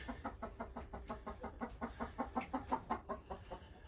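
A chicken, hen or rooster, clucking in a steady rapid series of close, moderately loud calls, alone at a free-range coop.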